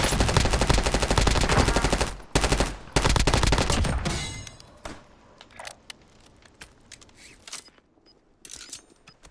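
Sniper gunfire in a shooting video game, opening with dense rapid volleys of loud shots that stop, resume, then thin out into scattered single cracks and clicks, fading quieter toward the end.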